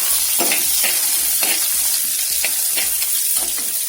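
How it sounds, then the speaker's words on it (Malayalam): Chopped shallots frying in hot oil with dried red chilies and curry leaves for a Kerala egg theeyal, a steady loud sizzle broken by regular scraping stirs about every half second, with no talking. "ഇതിലേക്ക് നമുക്ക് അരിഞ്ഞു വെച്ചിരുന്ന ചെറിയ ഉള്ളി ചേർക്കാം."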